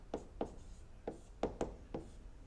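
Pen writing a math solution on paper: a series of short, quiet scratching strokes in an uneven rhythm, close up, against a low background hiss.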